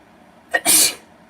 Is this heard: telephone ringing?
no